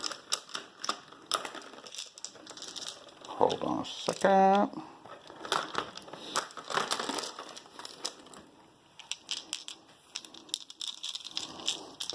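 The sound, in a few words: large dice being rolled in a tabletop wargame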